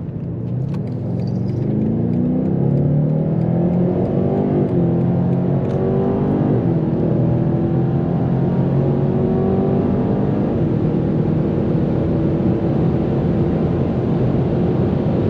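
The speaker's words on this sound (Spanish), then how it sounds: "le vamos a lanzar otro launch, a ver cómo reacciona el coche" A 2021 BMW M8 Competition launches hard, its engine roar sweeping upward through the gears in a steady, loud, close-up acceleration.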